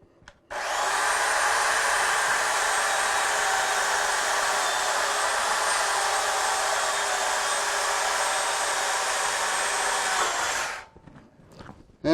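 Bandsaw cutting wood side grain, a steady loud whining roar that starts abruptly and holds evenly for about ten seconds before dropping away, followed by faint handling noises.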